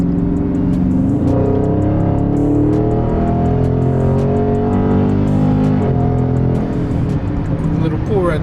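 A Dodge Charger 392 Scat Pack widebody in sport mode pulls hard, its V8 rising loud and steady from inside the cabin with rough engine rumble throughout, while someone talks over it.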